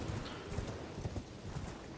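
Steady clip-clop of hoofbeats from Torrent, the spirit steed in the video game Elden Ring, trotting in an even rhythm at a moderate level with no talk over it.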